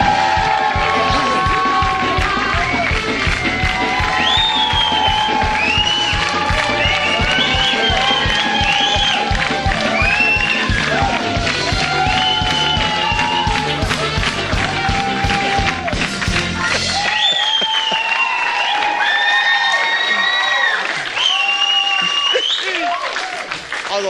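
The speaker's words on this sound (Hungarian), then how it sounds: "Az az igazság, hogy jár is ekkora taps, tényleg" A large theater audience greets comedian Bajor Imre with sustained loud applause and cheering that swells for about seventeen seconds before thinning out as scattered clapping.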